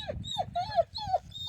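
Several soft, high-pitched puppy whimpers and squeaks in quick succession, faint and close, over a low rustling background.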